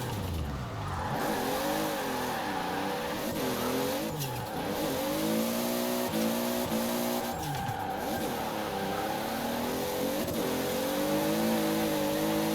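A Toyota Supra in Forza Horizon 4 revs hard while held in third gear, its tuned engine note climbing and dropping in repeated loud sweeps with brief skid squeals, close and continuous without talk.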